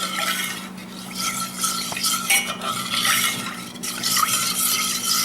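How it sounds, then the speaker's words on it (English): A spoon scrapes and stirs steadily around a pot, with faint clinks and a soft sizzle underneath; close, continuous, no voices. "stir it until it starts boiling"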